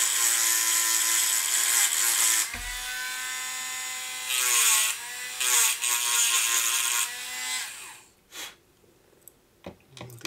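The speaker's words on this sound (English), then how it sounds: "I'm gonna sand down each one of these screws" A small power tool sands down screws with a continuous high whirring buzz that shifts in pitch, pauses briefly, then resumes in short bursts before stopping, followed by a few light clicks and handling taps.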